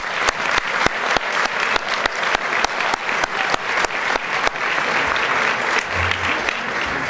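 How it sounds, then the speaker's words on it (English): Audience applause fills a Chamber of Commerce luncheon hall as board members stand to be recognized, steady, dense clapping from a large crowd with sharp individual claps popping out, continuous throughout. "Big round of applause."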